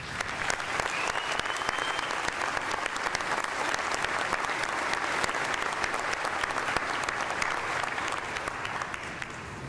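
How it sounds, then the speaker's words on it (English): Steady, dense applause from a commencement audience at a 2014 summer graduation ceremony, filling the hall continuously for about ten seconds at an even level with no voices rising above it. "I just wanted to make sure these ladies got a special round of recognition"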